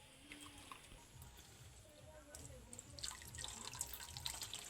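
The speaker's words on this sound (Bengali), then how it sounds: "এইরকমভাবে ছানাটা ধুয়ে নিতে হবে।" Fresh chhena cheese is rinsed in cold water, giving quiet, continuous splashing and dripping with soft sloshes that grow busier toward the end, under faint speech.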